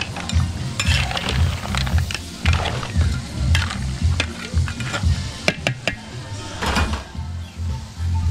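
Food sizzles in a pan while a utensil stirs and scrapes, with occasional clinks of metal against the cookware.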